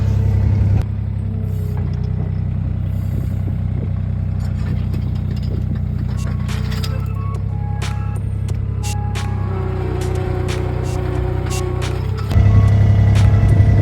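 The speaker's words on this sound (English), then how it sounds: "Trusty old skid loader does such a good job." An old skid loader engine running on a farm, a steady close mid-pitched rumble with mechanical rattles and clanks throughout, swelling louder near the end.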